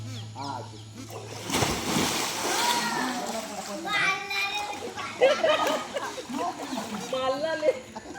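Children swimming in shallow sea water at Nagaon beach in Alibag send up repeated splashes and sloshing, with kids' voices and adult talk mixed in close by.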